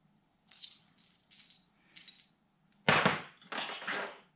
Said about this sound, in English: remove the plate and the three screws using the provided